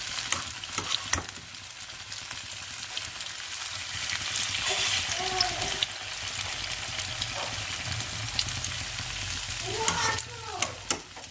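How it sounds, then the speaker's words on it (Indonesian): Corn fritters (perkedel jagung) fry in a pan of hot oil, giving a steady, crackling sizzle close by, with occasional clinks and scrapes of a utensil and faint background voices. "Saya mau menggoreng perkedel jagung dulu nih"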